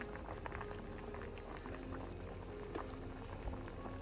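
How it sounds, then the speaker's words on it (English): Chicken and dumpling soup boils on high heat in a pot, a quiet, steady bubbling and popping close by, with no talk. "So just boiling away on high."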